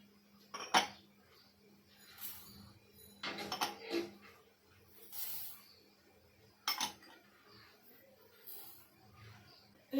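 Dal dry-roasting in a pan while a spicy green chilli pickle masala is made at home, giving a few sharp, sporadic pops and clicks over a quiet background.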